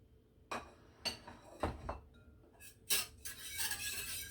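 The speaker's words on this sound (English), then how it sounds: "You might need to give it a bit of a stir because the miso does have a tendency to settle." A spoon stirs miso ramen broth in a bowl with shiitake mushroom slices, giving faint, scattered clinks and scrapes against the dish with quiet gaps between them.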